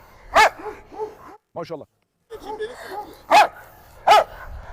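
A dog on a leash barks loudly and close by in a few short, heavy bursts, with people talking in between the barks.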